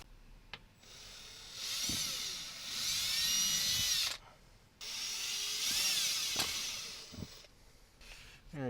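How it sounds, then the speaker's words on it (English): Power drill boring holes through the carpet of a BMW 335i, in two sustained whining bursts of a few seconds each, with short clicks and thumps between and after. "Let me go get the drill."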